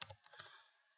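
An IP address being typed on a computer keyboard, a quick faint burst of a few key clicks in quiet surroundings.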